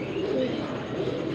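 Soft, low cooing from a Prince pigeon at a pigeon sale, steady and close, blended with a murmuring background.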